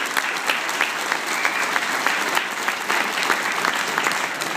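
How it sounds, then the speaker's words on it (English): An audience at an academic awards event bursts into dense, steady applause, many hands clapping together in a sustained, even wash from start to finish. "I'd like to give him a round of applause real quick"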